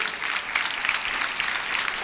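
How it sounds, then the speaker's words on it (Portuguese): A church congregation at a Sunday youth-week service applauds steadily, a dense wash of many clapping hands filling the space without pause, with no voices standing out. "Vamos aplaudir ao Senhor"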